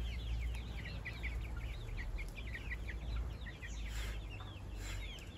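Backyard chickens in a makeshift run give a steady patter of soft clucks and chirps under a constant low hum, with no voices.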